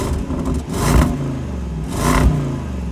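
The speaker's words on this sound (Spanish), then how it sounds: "tiene 4 salidas de escape que se escucha así de bien" A supercharged 5.0-litre V8 Land Rover Defender with 525 hp revs through four exhaust outlets, giving two loud, close throttle blips that swell and fall over a steady deep idle.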